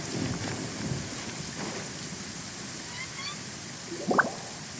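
Steady rain falling in the video game Genshin Impact, a soft continuous hiss with faint droplet detail and a short louder accent near the end.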